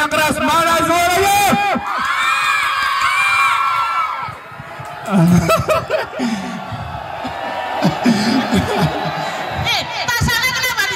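A loud school crowd at a cultural performance event yells and cheers in bursts, with children's shouts and whoops rising and falling, mixed with an announcer's amplified voice.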